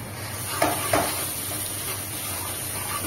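Ginger garlic paste fries in a pan with a steady, soft hiss, and two brief clinks of stirring come near the start.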